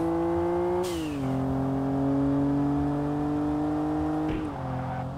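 Nissan Skyline engine in the Kaido Racer racing game, a steady droning tone that drops sharply at two gear shifts or lifts, then holds and climbs again, loud and continuous with no talking.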